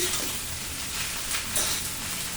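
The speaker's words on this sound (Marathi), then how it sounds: "गॅस एकदम फास्ट ठेवायचा आणि व्यवस्थित भाजून घ्यायची भेंडी।" Okra and green chilli fry on a high flame, making a dense, steady hiss of sizzling oil with faint stirring, close and even in loudness.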